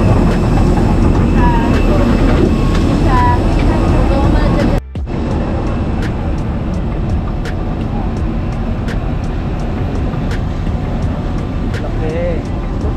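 Steady broadband rumble inside an airplane cabin during boarding for a Manila to Palawan flight, continuous engine and ventilation noise with a brief dropout near five seconds, voices talking over it.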